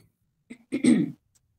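A woman clears her throat once before reciting a chant: a brief soft catch followed by a fuller, rasping clearing, close to the microphone in an otherwise quiet room.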